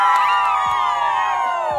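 Fans of a singer cheer and shout outside his concert, a loud, sustained crowd roar full of high voices and whoops, heard up close.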